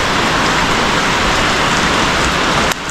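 Heavy rain pours onto a barn roof at a sawmill, a loud, dense, continuous hiss and patter that cuts off abruptly near the end, with no voices.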